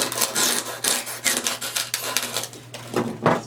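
Styrofoam rubbed and scraped against itself while assembling a Halloween deco mesh doorway decoration: loud, harsh squeaking rasps in repeated strokes, close up, with a steady low hum underneath.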